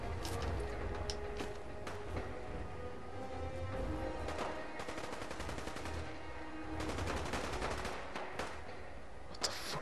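Gunfire rattles in Fallout 4 as several bursts of rapid machine-gun fire, some mid-distance, are separated by short lulls over a low background rumble.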